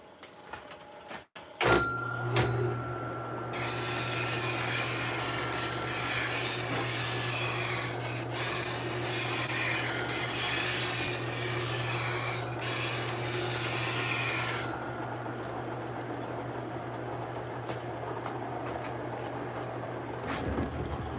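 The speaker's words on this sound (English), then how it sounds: "I had to sharpen my chisel." A wood-turning chisel is sharpened in a workshop, producing a steady, sustained rasping grind for about ten seconds over a constant low machine hum, followed by the hum alone.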